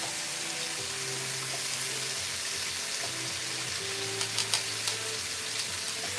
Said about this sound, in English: That's a thick ass bacon.